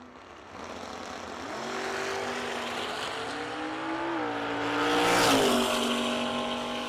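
Drag race cars launch off the start line at a bracket drag racing event: a loud, steady engine roar with rising revs that climbs to a peak near the end.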